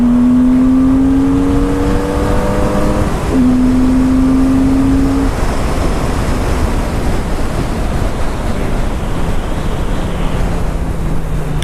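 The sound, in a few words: Rune cruiser motorcycle accelerating up to the speed limit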